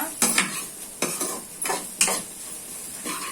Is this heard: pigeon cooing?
no